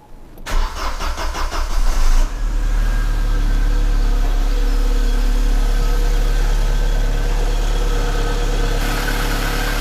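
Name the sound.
1992 Audi 80 engine starting after fuel pump repair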